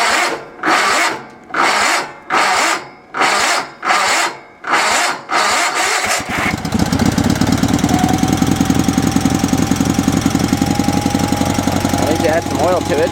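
A Sears SS/16 garden tractor twin engine, fitted with a modified snowmobile fuel pump, a large fuel filter and its original fiber carburetor float, gives rhythmic chugging bursts, then catches into a steady, loud, close idle.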